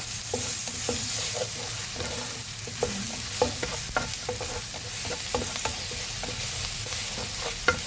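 Garlic sizzles steadily in a hot pan, a dense crackle with sharp scraping clicks as it is stirred and spread, close and moderately loud with no talking.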